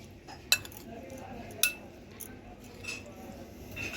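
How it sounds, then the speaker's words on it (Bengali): Utensils clink and scrape against a bowl while mixing a chicken salad, with two sharp metallic taps standing out over soft stirring and a low background hum. "সব কিছু দিয়ে এবার সুন্দর করে মিশিয়ে নিলেই রেডি হয়ে যাবে আমার চিকেন স্যালাড"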